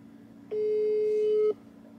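A single steady telephone ringback tone sounds for about one second on an unanswered call, a clean sustained beep over quiet background hum.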